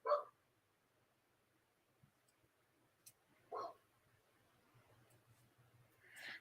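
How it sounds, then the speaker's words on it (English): A small dog outside wanting to be let back in, giving a few faint, brief whimpering barks spaced several seconds apart against a quiet background. "The poor little dog must have gone out for a loo and wants to go back in"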